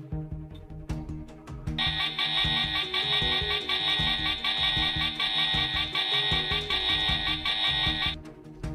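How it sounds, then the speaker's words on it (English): A loud, sustained emergency alarm tone from a Fireman Sam cartoon wails continuously over busy background music and clatter, starting shortly after the beginning and cutting off near the end. "He immediately sprang into action and sounded the emergency alarm."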